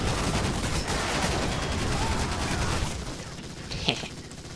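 Enemy gunfire in a modded Call of Duty 2 match, a continuous barrage of rattling shots and distant booms that thins out toward the end, with a faint voice underneath.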